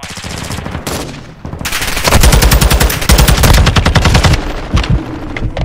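Rapid bursts of TAQ-56 rifle fire in Modern Warfare 2 multiplayer, loud and close, with sustained automatic volleys separated by short pauses.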